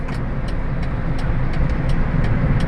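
Steady, close road traffic hums and rumbles continuously as cars pass a long queue, with faint regular ticking on top and no one talking.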